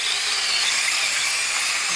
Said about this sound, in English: bore them out with a 3/8 drill bit